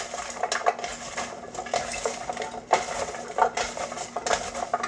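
Ingredients for shrimp étouffée are mixed by hand in a bowl, a spoon scraping and clinking irregularly against the sides in bursts, close and moderately loud.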